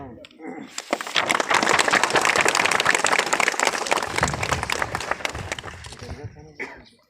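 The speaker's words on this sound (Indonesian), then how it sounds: "Pakai tepuk tangan." Crowd of students at a campus protest bursts into clapping that builds quickly, holds dense and loud for several seconds, then thins out to scattered claps at the end.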